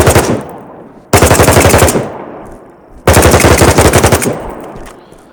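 Automatic gunfire in the shooter game BattleBit comes in two loud close bursts of rapid rhythmic shots, each about a second long, with fading echo between them.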